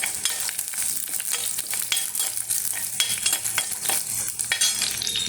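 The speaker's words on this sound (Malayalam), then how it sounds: "കടുക് പൊട്ടട്ടെ" Mustard seeds popping and crackling in hot oil in a pan, giving dense, irregular sharp pops over a steady sizzle, close and fairly loud throughout with no talk.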